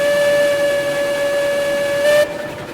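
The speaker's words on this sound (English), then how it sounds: "Give her a little more here and blow the cylinders out." A steam locomotive in the Railroad Online video game blows out its cylinders: a loud, steady, whistle-like steam tone that gives way near the end to a rushing burst of hiss, with no talk.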